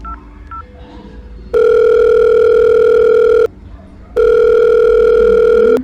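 A mobile call's ringback tone plays close and loud as two long steady beeps separated by a short pause, preceded by faint background sound.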